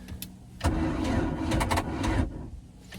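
A MerCruiser 3.0 engine cranks sluggishly on a weak battery with a labored, uneven churning for a couple of seconds, fairly faint, without catching.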